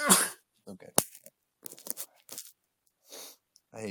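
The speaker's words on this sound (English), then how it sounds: "I hate sneezing in public." A single sharp sneeze bursts out near the start, followed by scattered quiet speech and small rustling in a room.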